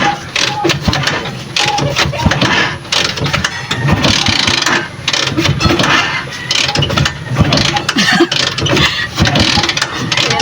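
A vehicle engine is cranked and revved with difficulty as the driver works the clutch and throttle. The rough engine noise is loud and close and runs throughout, with voices talking over it.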